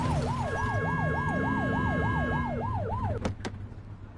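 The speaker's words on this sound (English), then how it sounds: "Get on their tail and flip the siren." A police car siren in a video game wails in a rapid rising-and-falling cycle for about three seconds, then cuts off into two short sharp blips, loud and close over a low engine rumble.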